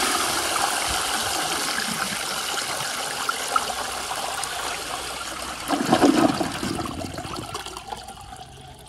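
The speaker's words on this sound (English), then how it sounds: "let's give it another flush" Flush of a 1920 Standard ejector toilet, a steady rushing of water building to a louder gushing surge near the end, then trickling off, heard up close.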